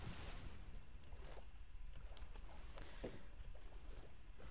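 A boat in Minecraft moves through water with a steady low wash and splashing, scattered soft knocks and ripples over a continuous churning background.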